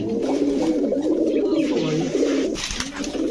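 Saharanpuri tumbler pigeons at a busy pigeon market coo in low, throaty, overlapping rolls, steady and close, with faint market noise and a brief rustle near the end.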